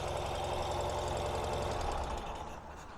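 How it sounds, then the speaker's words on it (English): A 2024 Ural Gear Up motorcycle engine runs at a steady, elevated cold-start idle, a continuous close mechanical drone with knocking pulses that eases slightly toward the end. "just like your car, it does have the high idle when it's cold for the emissions reasons and to keep the oil pressure up when it's cold"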